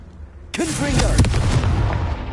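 Fire spell Confringo cast in Hogwarts Legacy, erupting as a sudden loud blast that rolls into a sustained crackling, rumbling burst for about two seconds, with a faint voice underneath.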